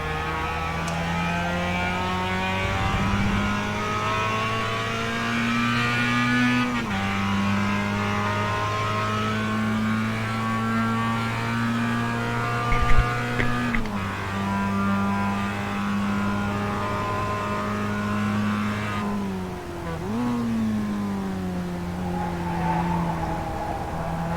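Engine of a Mazda MX-5 race car at Mid-Ohio in a racing video game, droning steadily at high revs with repeated gear shifts and brief dips, tires squealing now and then, loud and continuous with no talk.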